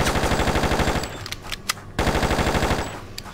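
A gun fired in Just Cause, with rapid automatic bursts of evenly spaced shots, a brief pause with scattered sharp cracks, then another fast burst, loud and close.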